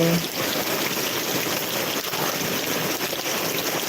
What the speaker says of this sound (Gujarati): આ વરસાદ જ કેટલો પડે